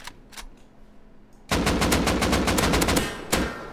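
An M249 machine gun fitted with a muzzle brake fires in Rust: a few quiet single pops, then a loud sustained burst of rapid, evenly spaced shots, close and dominant, ending with one sharp final crack.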